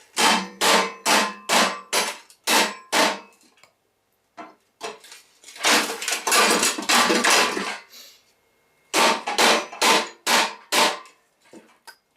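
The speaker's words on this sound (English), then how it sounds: "have to get the whoop whoop gun on it, the air hammer" Rapid bursts of a pneumatic air hammer working on a Toro snowblower auger gearbox, loud and close, in three runs of sharp repeated blows separated by short pauses.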